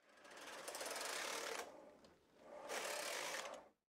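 Brother 260 bulky knitting machine carriage pushed across the needle bed in two loud sliding passes, each with a rushing, clattering rattle, separated by a brief pause, close and with no talk.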